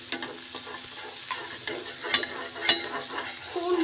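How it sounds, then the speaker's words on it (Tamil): Chopped onions sautéing in hot oil in a pan for appalam tomato soup, a steady close sizzle with frequent stirring scrapes and clicks from a spoon across the pan throughout. "நம்ம இப்போ ஆனியன்ஸ் போட்டுக்கலாம். ஆனியன் நல்லா வதக்கணும்."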